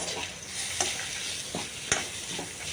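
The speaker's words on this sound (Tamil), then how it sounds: "போட்டு நல்லா வறுத்துக்கிட்டுருங்க." Coriander seeds, dried chillies and small shallots sizzle in a pan for Kerala sadhya sambar, a close, steady frying hiss with two sharp spatula taps against the pan, no voices.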